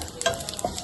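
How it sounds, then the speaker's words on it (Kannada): Cumin seeds for jeera rice frying on a low flame, a soft crackling sizzle with a couple of light stirring scrapes, close and fairly quiet. "ಕಮ್ಮಿ ಫ್ಲೇಮಲ್ಲಿ ಫ್ರೈ ಮಾಡ್ಕೊಳ್ಳಿ."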